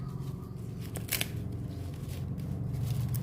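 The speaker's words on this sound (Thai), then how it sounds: "หั่นใบหอมเปรลงไปจ้ะ" A few crisp snips of herb leaves being cut close up, heard over a low background hum.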